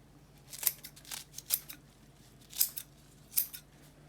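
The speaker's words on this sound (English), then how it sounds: "I'm gonna take some kitchen scissors" Kitchen scissors snip through a bunch of kale leaves over a salad bowl, about five crisp separate cuts at an uneven pace, close and fairly quiet with no talk.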